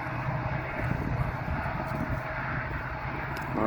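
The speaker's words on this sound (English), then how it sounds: "Those EMDs sound amazing." EMD diesel locomotives running during a railfanning weekend in Ohio, a steady, loud, close engine rumble that holds evenly for the whole stretch with no voices.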